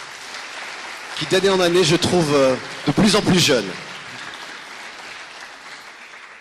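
An audience at an Armistice commemoration claps in a dense, steady patter under someone speaking French into a microphone, then the clapping thins to a softer wash.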